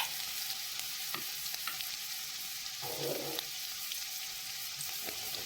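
Asafoetida and turmeric fry in hot oil over a crushed chilli thecha for besan patwadi, a soft steady sizzle with light stirring clicks and one short scraping rustle in the middle, with no talk.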